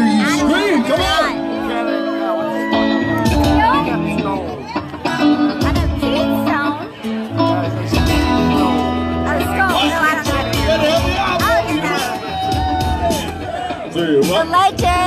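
A crowd screams, whoops and cheers loudly and continuously, many overlapping voices shouting at once, at a GSU Homecoming 2018 performance.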